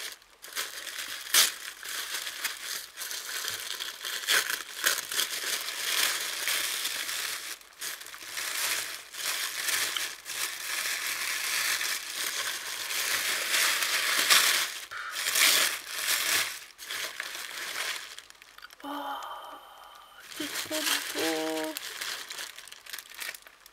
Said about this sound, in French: Emballé dans un petit papier blanc comme ça. Et je vais ouvrir.